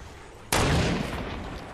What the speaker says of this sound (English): Yo, stop shooting at them